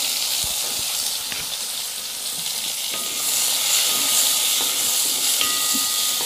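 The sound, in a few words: chopped raw mangoes sizzling in oil with five-spice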